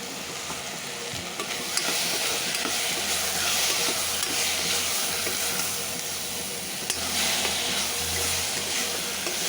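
Washed chicken pieces sauté in a pan, producing a dense, steady hissing sizzle with stirring scrapes and a low rumbling hum beneath, moderately loud and continuous.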